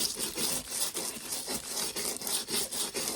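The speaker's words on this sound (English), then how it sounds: "So I'm scrubbing with a scrub brush" Scrub brush scrubbed hard across a glass plate to release foil, rhythmic back-and-forth bristle strokes about three per second, loud and close with no talk.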